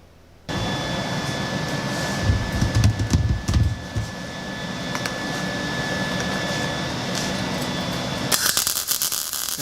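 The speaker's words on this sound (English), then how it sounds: "I'm just doing some welding here, welding the pieces together" Metal pieces being welded together for a car's core support let out a steady crackling hiss that kicks in abruptly after half a second, runs unbroken with small pops, and swells louder near the end.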